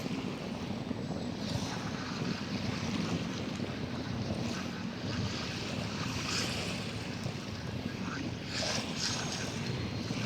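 Waves wash onto the shore of the West Philippine Sea, a continuous rushing surf mixed with wind buffeting the microphone, steady and fairly loud.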